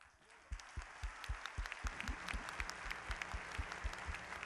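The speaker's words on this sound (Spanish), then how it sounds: "Ahorita un gran aplauso a Andrés." A conference audience breaks into sustained applause for Andrés, many hands clapping in a dense, even roar that starts abruptly and carries on steadily, with faint murmurs underneath.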